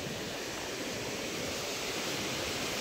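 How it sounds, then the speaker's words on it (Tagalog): Big sea waves wash onto a shore swollen with high water and debris, a steady, loud, broadband roar of surf with no distinct breaks, heard alone without voices. "Napakalalaki ng ating alon"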